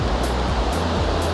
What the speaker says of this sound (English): you can see the waterfalls and all.